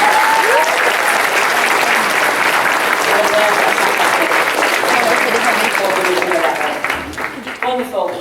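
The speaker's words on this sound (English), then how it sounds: "Can we give them a big round of applause" A school awards ceremony audience gives a big, sustained round of applause, dense clapping that stays loud for several seconds before thinning out at the end, with a few voices underneath.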